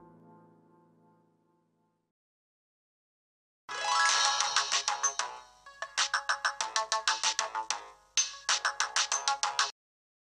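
An incoming call sets off a mobile phone ringtone, a bright, loud electronic melody that starts suddenly after a faint murmur and repeats in quick pulsing bursts with short breaks between phrases.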